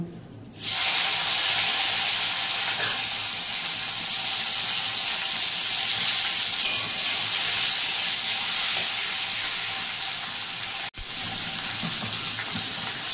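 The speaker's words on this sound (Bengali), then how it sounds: "ফোড়নটা ভাজা হয়ে গেছে, এরপর আমি টমেটো কুচিটা দিয়ে দেব" Chopped tomato hits hot tempering oil in a pot for vegetarian khichdi, bursting into a loud, continuous sizzle that holds steady for over ten seconds with a brief dip near the end.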